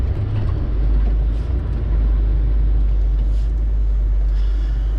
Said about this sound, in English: Truck running.